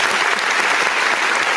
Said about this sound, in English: I'm gonna give him a short clap.